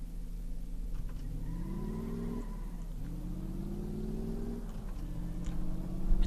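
Car engine in Car Mechanic Simulator 2015 revving with rising, falling pitch sweeps as an automatic transmission shifts, a steady loud hum with no talk over it.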